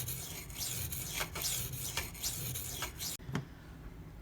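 Maxamet steel knife being sharpened on Gritomatic stones, a steady gritty rasping scrape of blade across abrasive stone, repeated in close strokes for about three seconds before a brief pause and a softer final stroke.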